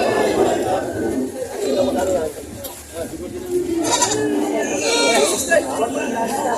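Goats bleat several times amid a busy outdoor goat sale, their wavering cries rising over people chattering and talking nearby.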